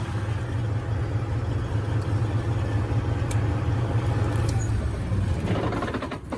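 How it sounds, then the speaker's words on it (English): A 1999 Freightliner Classic truck engine idles with a loud, steady low rumble for several seconds, then shuts off abruptly near the end, with a brief clatter as it dies. "Go ahead and cut this truck off."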